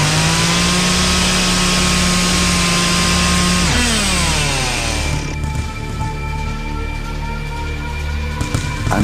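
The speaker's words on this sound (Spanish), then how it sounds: "el chavo dar en marcha la motosierra" A chainsaw sound effect revs with a steady buzzing engine drone, then its pitch drops and shifts into a rougher idling run, loud and close throughout, with no voices.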